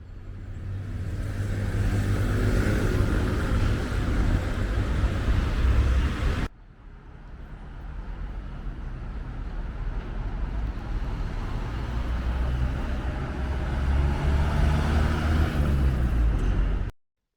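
Cars drive through the arches of an old aqueduct in Istanbul used as a road tunnel, a loud steady engine rumble and road roar that cuts out briefly, then builds again as more traffic passes close by.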